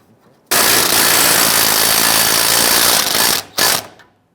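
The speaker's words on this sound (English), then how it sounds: "Let's go ahead and get this bolt started here." A bolt is driven in on the fuel tank of a 1995-2001 Ford Explorer during a fuel pump replacement, heard as a loud, continuous mechanical ratcheting burst of about three seconds that stops, then returns briefly.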